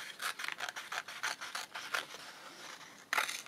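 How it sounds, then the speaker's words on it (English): Scissors snipping through paper while decorating journal pages, a quick run of close, crisp cuts with a louder snip near the end. "I can just get my scissors."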